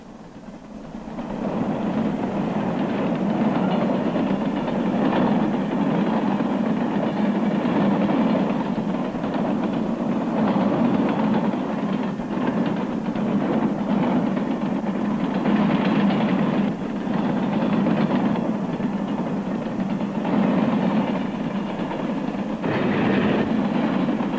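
A freight train rolls past continuously, a loud steady rumble with rattling wheels and clatter throughout.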